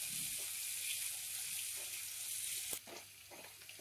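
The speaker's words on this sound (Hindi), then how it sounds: "इसे भी हम आलू के साथ 1 से 2 मिनट तक भून लेंगे।" Diced carrots and potatoes fry in a pan with a continuous hissing sizzle, joined near the end by a sharper clatter and some stirring.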